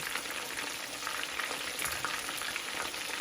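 Steady, dense sizzling of catfish frying in hot oil, crackling continuously and close by, with no talking.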